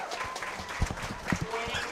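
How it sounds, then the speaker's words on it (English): An audience at a county fair hog show gives scattered, light applause, fairly faint and brief, mixed with a voice talking. "Let's give these exhibitors a nice round of applause."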